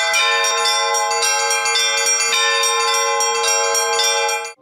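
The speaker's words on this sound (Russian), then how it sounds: "Колокольный звон – один из символов России." Church bells of an Orthodox church ring continuously at a festival in Sochi, with loud, rich overlapping peals and rapid repeated strikes that carry on steadily without any voices.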